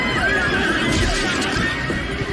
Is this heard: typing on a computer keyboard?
no